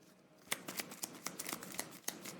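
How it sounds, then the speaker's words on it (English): Playing cards from the board game Die in a Dungeon being shuffled back into the deck: a quick run of crisp, riffling snaps and slaps, close and fairly loud after a quiet start, with no talking. "we're going to shuffle this back in there"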